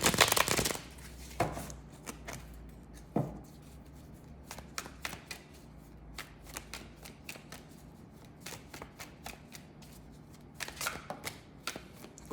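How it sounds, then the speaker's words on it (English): Tarot cards being shuffled by hand: a loud riffle at the start, then scattered soft taps and slides of the deck, with another burst of shuffling near the end, close and without talk. "One more shuffle."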